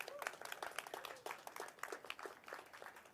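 Audience at a Virginia rail announcement event claps for an official, quiet, distant scattered applause with distinct individual claps, no speech over it.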